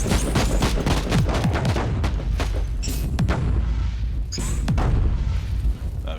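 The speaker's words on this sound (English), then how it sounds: "The plasma cannon is really good for actually crowd controlling a lot of people" Rapid bursts of heavy plasma cannon fire and booming impacts in Warhammer 40,000: Inquisitor Martyr, loud and continuous, layered with crackling effects.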